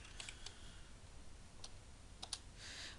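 Light, quiet keystrokes tap on a computer keyboard in a short irregular burst, with a faint background hiss.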